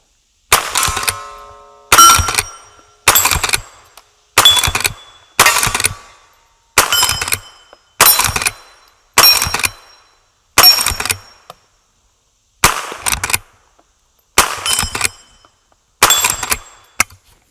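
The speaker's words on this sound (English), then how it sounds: "So let's do a few shots downrange with it." A .22LR rimfire carbine rifle fired downrange outdoors, about a dozen sharp, loud cracks at a slow, even pace of roughly one per second or so, each cutting off into silence.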